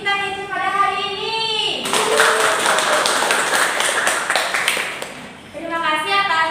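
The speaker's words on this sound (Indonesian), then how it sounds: "Beri tepuk tangan untuk MC kita yaitu pada hari ini" A seminar audience for teachers and school heads breaks into a burst of applause for the MC lasting about three seconds, between stretches of a speaker's amplified voice.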